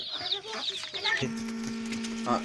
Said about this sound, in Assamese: বটা চৰাই আছে মোৰ ইফালে